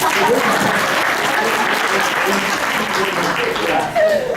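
An audience at a motivational speaking event applauds steadily throughout, a dense, sustained wash of clapping with a brief swell near the end.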